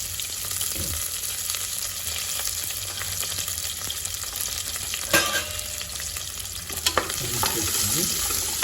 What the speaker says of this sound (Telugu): అండ్ అలాగే ఉల్లిగడ్డలు పొడుగా కట్ చేసుకొని వేసుకోండి.